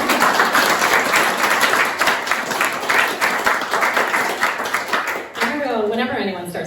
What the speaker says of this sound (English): I did want to clap. Let's clap.